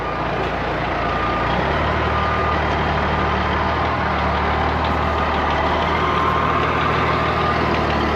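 A truck manoeuvres slowly through a tight gap past a parked camper at a building site, its heavy engine idling loud and close while a reversing alarm beeps steadily throughout, with no talk.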